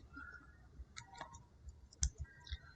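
Keys tap on a keyboard as text is typed into a web browser, with quiet, irregular clicks spaced through a hushed background and a couple of slightly firmer strokes near the end.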